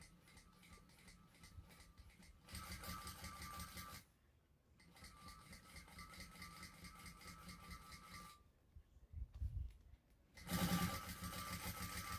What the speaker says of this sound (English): now I'm going to top stitch just above the folded edge there